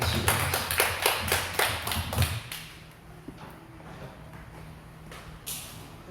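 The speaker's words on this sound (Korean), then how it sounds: "우리 하나님께 영광의 박수 올려드립니다" A church congregation applauding during an evening worship service, a burst of loud, rhythmic clapping that fades into scattered claps and quiet room tone after a couple of seconds.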